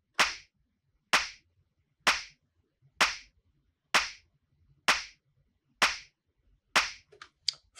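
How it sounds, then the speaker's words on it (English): A punchy clap sample on the drum layer of a UK minimal house track, hit eight times at an even one-per-second pulse, each a short sharp crack with a quick decay, heard alone and close. "In our drum layer, we have our main clap here."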